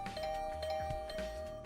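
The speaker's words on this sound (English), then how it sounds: "A sudden barrage of doorbell rings took me by surprise" A doorbell in the video game The Hundred Line, rung in a rapid barrage of repeated chimes over a steady hum, with a sustained tone running underneath, nearby and with no talking.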